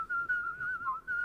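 A single steady whistled tone, fairly clear and close, held in short connected phrases with slight pitch dips, alone without talk.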